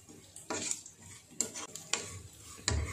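Baby potatoes are stirred in a pan, with a few separate scraping and clinking strokes of a utensil against the metal, spaced unevenly and heard close in quiet surroundings.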